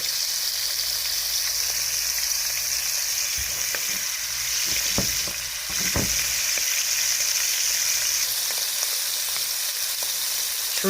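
Shrimp sear in a hot pan with a steady, close crackling sizzle that runs throughout, broken by a few sharp knocks and scrapes around the middle.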